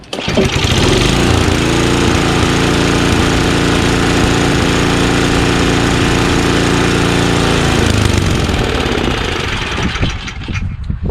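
Ariens 524 two-stage snowblower with a Tecumseh 5HP engine pull-started and running, a loud close steady chugging roar that holds for several seconds before easing down near the end.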